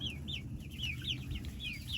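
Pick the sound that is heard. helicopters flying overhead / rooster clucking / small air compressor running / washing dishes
rooster clucking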